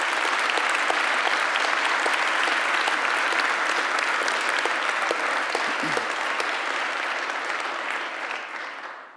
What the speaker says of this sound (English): if we could give them a round of applause